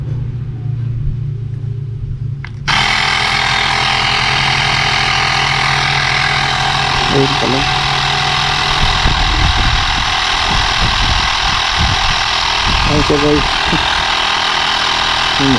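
A portable tire inflator switches on abruptly and runs with a loud, steady motorized buzz while pumping a motorcycle tire, close by, as a person talks over it.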